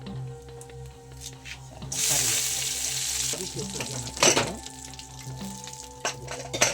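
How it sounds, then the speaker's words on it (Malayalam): Mushrooms sizzle and crackle in hot oil with mustard seeds, swelling into a loud hiss midway with some stirring clatter. "മുറിച്ച് കടുവറുത്ത എണ്ണയിലേക്ക് ഇടുക. കൂണ് കൊണ്ട് അതിനെ ഇളക്കി കൊടുക്കുക"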